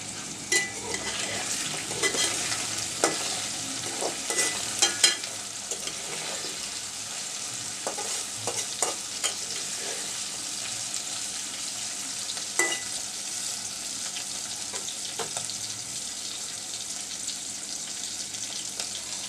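Chopped garlic sizzling and frying in a pan for a Bangladeshi dried-fish (shutki) curry with potato and eggplant, a steady close hiss broken by scraping stirs and occasional clinks of a utensil against the pan, with no talk.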